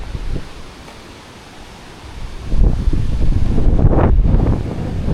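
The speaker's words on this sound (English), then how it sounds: "It's kind of windy." Strong gusty wind buffeting the microphone near the cloud-capped summit of a mountain on Kamigan Island in the Philippines, a quieter lull followed by louder sustained roaring gusts.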